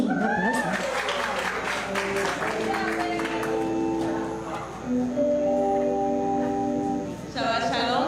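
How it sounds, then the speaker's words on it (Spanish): A church congregation claps during a live Shabbat service, scattered applause under sustained tones and a voice that sings or speaks over it, with a brief swell near the end. "Un aplauso para Benjamín, un aplauso."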